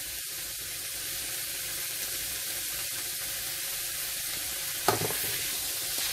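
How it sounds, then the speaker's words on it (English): Salted cod seasoned with black pepper, garlic powder and sazon fries in a pan, sizzling steadily and close for the whole stretch, with a brief louder scrape of stirring near the end. "Now I stir."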